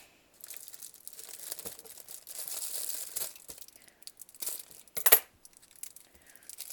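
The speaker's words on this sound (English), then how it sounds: "Sorry for the crinkling." Plastic Happymail packaging and a holographic baggie crinkle and rustle up close in irregular bursts, with a sharper crackle near the end, no talking over it.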